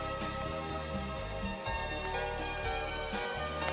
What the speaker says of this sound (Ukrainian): Дорогі друзі, дощ посилюється, треба йти сушитися